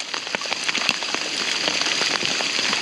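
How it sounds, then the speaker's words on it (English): Hail pelting the ground and gear during a hailstorm in the High Uintas wilderness, a dense, continuous crackling patter of many small impacts, sharp ticks standing out close by, with no talking. "This hailstorm is tremendous"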